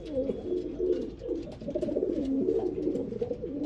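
Pigeons in a large cage give low, soft coos, close and continuous, with several birds overlapping in a rolling murmur.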